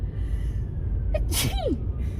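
A single sharp sneeze erupts inside a car during a driving test route, a quick inhaled catch followed by a burst over low engine and road rumble.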